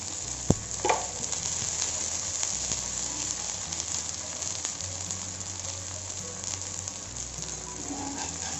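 Vegetable adai batter fries in oil on a hot tawa, giving a steady close sizzle throughout, with a sharp tap or clink near the start and no talking.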